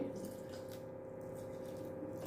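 A steady, faint stream of water poured gradually into idli batter, running and trickling continuously, with no voices.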